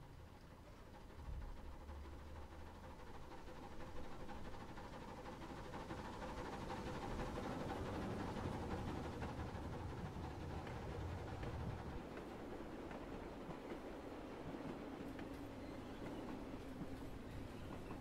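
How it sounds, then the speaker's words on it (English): A Bulleid Pacific steam locomotive running on a Train Simulator mainline gives a faint, steady rolling rumble with rhythmic clickety-clack, swelling slightly midway and then easing, no talking. "Oh, and I hear a Bully Pacific."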